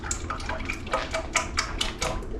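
Cream for homemade butter being poured from a carton into a bowl, a steady close liquid pouring and splashing sound with small bubbly ripples throughout, moderately loud, no talking.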